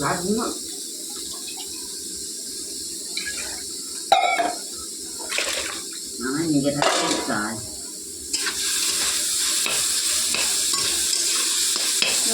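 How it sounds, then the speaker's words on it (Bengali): Leafy greens frying in hot oil in a pan, stirred with scraping strokes that come in irregular bursts over a steady, fairly loud sizzle. "দেখুন ভালোভাবে নাড়াচ্ছি"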